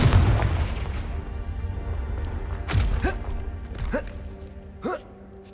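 Confringo blasting spell explosions from the Hogwarts Legacy video game, a heavy opening boom followed by several sharper blasts with whooshing tails, spaced a second or so apart over a low rumbling backdrop.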